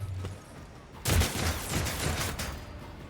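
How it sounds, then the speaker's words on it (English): Burst of gunfire in the Warhammer 40,000 Rogue Trader video game: a loud volley starts after a quiet second and rattles on as repeated shots for about two seconds before tapering off. "I like how we're just shooting everywhere."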